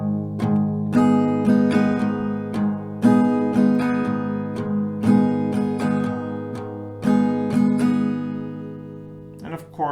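Acoustic guitar strumming, a steady down-down-up pattern of bright chords shifting between bass and higher treble strings, close and clear with no voice.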